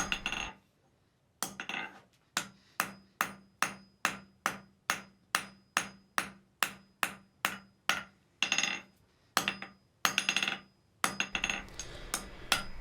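A blacksmith forges a short taper on the end of a steel bar, striking it on an anvil in a steady run of sharp, ringing hammer blows, close and loud with brief pauses between bursts.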